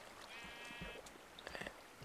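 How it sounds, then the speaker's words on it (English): Sheep in the Minecraft video game bleat a few times in short, wavering calls, fairly faint over a quiet game background with no talking. "Oh, I hear sheep."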